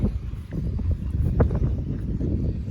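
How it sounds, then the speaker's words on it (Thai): Gusty wind ahead of approaching rain rumbling and buffeting close to the microphone, with a faint rustle rising and falling over a few seconds. "ลมฝนมาแล้วครับ"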